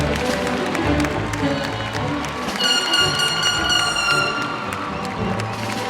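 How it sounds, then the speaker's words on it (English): A graduation crowd at a computer science and engineering ceremony claps and cheers, a sustained roar of applause with voices mixed in and a brief bright whistle-like tone partway through. "the rest of us provide heartfelt and thunderous applause to congratulate the class of"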